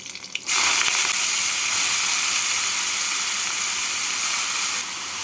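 Bathua greens drop into hot oil with nigella seeds and green chillies, setting off a sudden loud, steady hiss of frying that holds strong for several seconds before easing slightly at the end.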